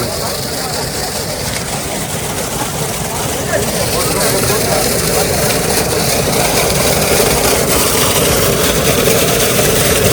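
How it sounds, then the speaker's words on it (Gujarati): Falcon motors running in a demonstration at a farm show, a steady loud mechanical drone with constant rumble throughout, crowd noise and voices mixed underneath. "ફાલ્કન કંપનીની છે મોટર બધી તો ચાલુ છે ડેમો"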